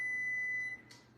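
A steady, high electronic tone from an oven timer beeps continuously for most of a second and then cuts off, followed by a faint click in a quiet kitchen.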